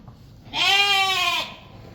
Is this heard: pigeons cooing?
no